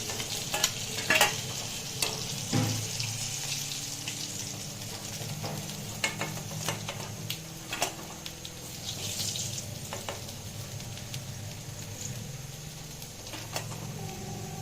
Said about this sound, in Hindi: अब हम रोहू मछली फ्राई कर रहे हैं